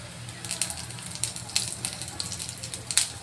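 Green chillies sizzle with cumin in a hot pan, giving a soft, steady fry punctuated by sharp, irregular crackles and pops close by.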